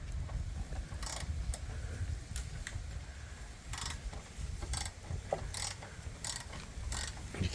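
A ratchet cranks down a crash bar bolt on a 2022 Indian Super Chief Limited motorcycle, giving short bursts of rapid mechanical clicking at irregular intervals over a low steady background, with no talking.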